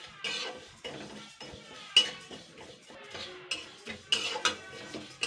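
A spatula stirs dry moong dal in a metal kadai with no oil, giving close, irregular scrapes and clinks, with a few sharper knocks against the pan between softer rustling of the lentils.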